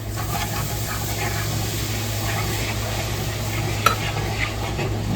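Water is whisked into gravy for meatball stroganoff in a pan, a constant close bubbling sizzle with soft stirring scrapes throughout.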